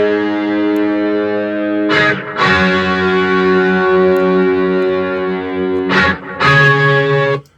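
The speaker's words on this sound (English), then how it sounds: "Add that with then the second high guitar with more distortion." Two layered electric guitars, the higher part carrying heavier distortion, ring out in sustained, thick chords that break briefly twice before ringing on, loud and close with no talking.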